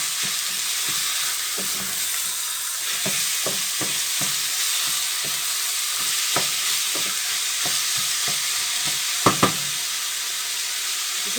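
Filling for West African pastels frying in a pan, a loud constant sizzle and hiss with repeated scraping taps from stirring, plus a couple of sharper knocks near the end.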